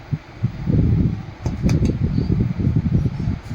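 A mixer grinder churns soaked dal into idli-dosa batter in its jar, a close, loud, pulsing motor whir with choppy bursts and brief pauses, no voices.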